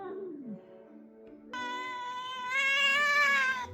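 Indoors in an apartment that takes in stray cats, a cat lets out a long, rising, insistent meow that swells louder toward the end, close by, after a brief quieter lead-in.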